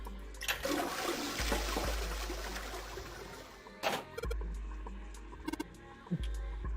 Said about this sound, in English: Flush it multiple times.